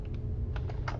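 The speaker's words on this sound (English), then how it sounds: "I'm going to type in" Quick keystrokes on a computer keyboard while entering an Excel function, a few light clicks in a short burst over a low steady background hum.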